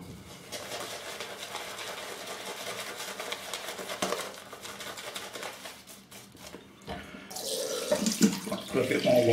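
Water runs steadily from a tap, splashing into a sink, getting louder and more turbulent toward the end.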